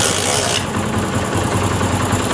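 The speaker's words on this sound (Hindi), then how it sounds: "तो अब बाइक को स्टार्ट करके इसके बाद दोबारा से साउंड चेक कर लेते हैं" A Honda CD70 motorcycle engine starts and runs at a steady idle, giving a close, continuous, noisy mechanical drone throughout.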